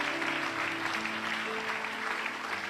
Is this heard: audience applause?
yes